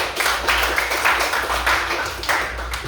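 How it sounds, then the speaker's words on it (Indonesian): A class of children clapping hands together in a classroom, a loud, slightly uneven burst of rhythmic claps repeating steadily close by for a few seconds. "Oh iya, kita beri tepuk tangan dulu."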